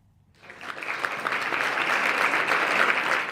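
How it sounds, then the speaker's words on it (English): Strong applause from scientists in Paris at the launch of a biodiversity report on the state of nature, starting abruptly from near silence and swelling into steady, full clapping from a room of people. "There was strong applause from scientists here in Paris as this key report on the state of nature was presented"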